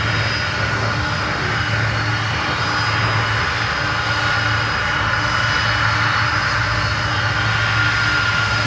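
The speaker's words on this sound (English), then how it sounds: "Oh, these are Pratt & Whitneys, not CF6s." A Boeing 747 with Pratt & Whitney engines roars at an airport in Miami, a loud, steady jet rumble with a constant whine that holds throughout with no talking.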